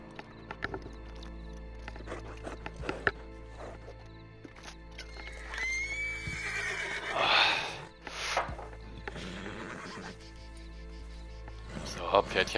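In the video game Red Dead Redemption 2 Online, a horse gives a rising and falling whinny midway through. Scattered hoof clops and other game ambience surround it at moderate volume.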